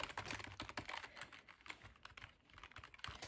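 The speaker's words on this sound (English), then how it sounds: "I have a gaming keyboard." Rapid typing on a gaming keyboard, a steady, continuous stream of close, crisp key clicks with no pauses.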